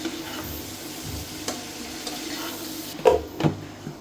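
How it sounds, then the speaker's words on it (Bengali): Hilsa fish and winter vegetables being stirred in a pan over a low sizzle, with periodic scraping strokes and a couple of louder metallic clanks near the end; nobody talks. "ভালো করে নেড়ে এখন ঢাকনা দিয়ে দিব।"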